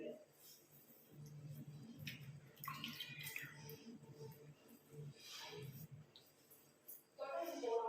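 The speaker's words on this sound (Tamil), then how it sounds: "தண்ணி விட்டு ஃபேஸை நல்லா வாஷ் பண்ணிட்டேன்" Water splashes and trickles during a face rinse at a sink, with intermittent wet bursts and drips over a steady low background, fairly close and moderately quiet.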